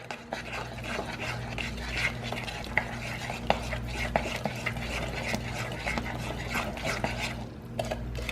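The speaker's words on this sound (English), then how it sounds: "And you stir once again." A spoon stirs banana nut muffin batter in a bowl, making soft wet scraping and occasional clinks against the side, close and continuous, with a low hum underneath.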